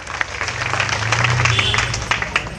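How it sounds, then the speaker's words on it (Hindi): Audience at a political rally in Barhi constituency claps to welcome a speaker, steady applause with a voice and crowd noise mixed in throughout. "इन्हें आप तालियों के साथ इनका स्वागत करें।"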